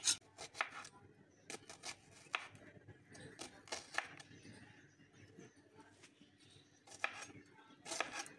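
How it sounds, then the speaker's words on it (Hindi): Knife chopping an onion finely on a board, sharp irregular cutting taps in short bursts, close and fairly quiet, no talk. "प्याज काट लेते हैं।"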